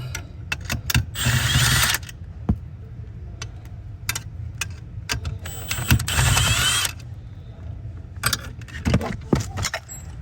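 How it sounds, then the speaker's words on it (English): Ratchet working bolts loose on a 2006 Nissan Altima while the ignition lock assembly is replaced, with bursts of rapid clicking mixed with metallic clinks and jangles, close and fairly loud, no talking. "Might actually end up taking the bolts all the way out"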